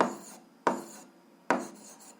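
Pen or chalk writing numbers, three separate scratchy strokes, each starting sharply and fading, close and fairly quiet, with short pauses between them.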